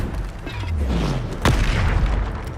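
A Bombarda blast spell goes off in the Hogwarts video game, a single heavy booming explosion near the middle with a low rumbling tail, set among ongoing spell-casting effects and a low background drone.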